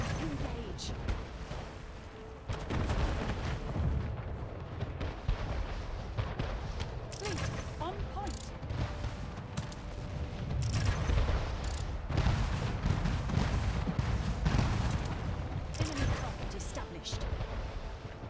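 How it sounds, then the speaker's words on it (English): Ship cannons fire during a naval assault in Anno 1800, with repeated booming shots and bursts spread over a continuous game soundscape, fairly loud throughout. "so we'll fire two cannons on that."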